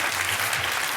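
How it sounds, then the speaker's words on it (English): An audience at the finals of the Australian Barista Championship bursts into loud, dense applause, a continuous wash of clapping filling the whole moment. "I think that's worthy of a round of applause,"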